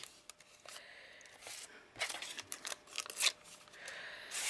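Paper is ripped off by hand to make a mixed-media tag: short, dry tearing and crinkling rustles in quick bursts, close and fairly quiet, with no talking.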